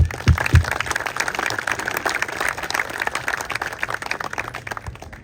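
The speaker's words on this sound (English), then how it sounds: "A huge applause." Audience applause fills the gala night hall at the Bali Bird Congress 2025, a dense, steady wash of many hands clapping that holds for several seconds before thinning out at the end.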